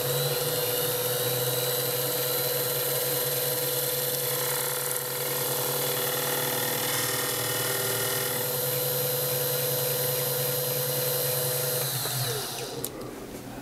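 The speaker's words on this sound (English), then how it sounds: "I'm using a 3/4 inch carbide woodworking router bit to hog out that space around the little shaft" A 3/4 inch carbide woodworking router bit mills out clearance space on a mini mill spindle project, making a continuous loud high-pitched whine with a steady motor drone. It runs without a break and stops near the end.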